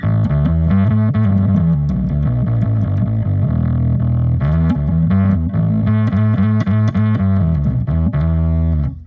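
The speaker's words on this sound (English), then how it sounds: "If I turn on the distortion." An electric guitar played through a distortion effect on a Headrush unit rings out loud and thick, with chugging, sustained chords that shift steadily over several seconds and no voices over them.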